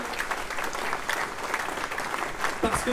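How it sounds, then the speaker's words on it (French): Full, steady audience applause at a GGR2022 prize-giving in La Rochelle, a thick wash of many hands clapping without a break for the whole three seconds. "Merci, applaudissements"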